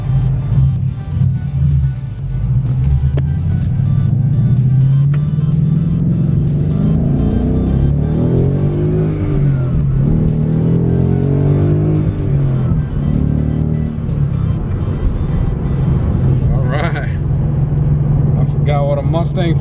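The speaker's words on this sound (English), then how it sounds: "So let's go ahead and take it for a little test drive." A 2015 Ford Mustang GT on a test drive, its engine droning loudly and steadily as it accelerates through rising and falling revs, heard from inside the car with a voice talking over the engine noise.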